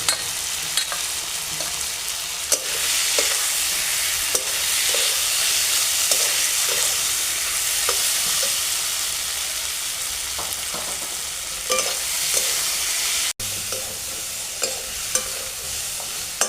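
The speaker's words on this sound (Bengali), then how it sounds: "বেগুনগুলো দিয়ে আরও কিছুক্ষণ নেড়ে চেড়ে নেবো" Fried eggplant being stirred into spiced potatoes in a pan, a continuous hiss of frying with scraping spatula strokes and occasional knocks against the pan, heard up close without voices.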